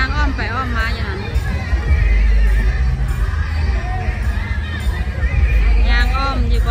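A horse at an outdoor festival in Archdale, North Carolina, repeatedly whinnying amid crowd babble and nearby talking, with steady background hum.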